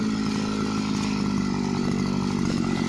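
A pit-digging machine working on an arecanut farm, its engine droning loud and close with a steady buzzing, chainsaw-like roar that holds constant for the whole stretch without any talk.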